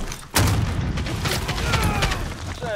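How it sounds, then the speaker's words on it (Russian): An explosive being planted in Call of Duty: Warzone, a sudden loud thump followed by rumbling mechanical clatter and bursts in the game mix, with faint voices underneath. "Размещаю взрывчатку."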